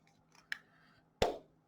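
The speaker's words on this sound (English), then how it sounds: "So let me sharpen my pencil again" A colored pencil is turned in a small handheld sharpener, giving a couple of short dry scraping crunches. The first is brief, and a louder grinding burst follows after a pause, in a quiet room.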